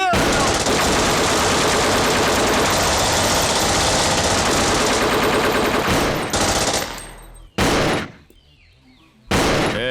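Sustained automatic gunfire in a dubbed action film, a loud dense rattling barrage running several seconds, then cutting off with brief bursts and gaps of quiet before one more loud blast.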